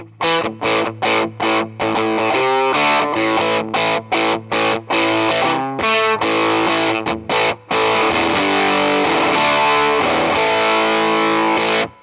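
Loud electric guitar through a Tone Bender-style fuzz pedal playing choppy staccato chords, then longer sustained notes, thick and saturated throughout, sounding more like an overdrive.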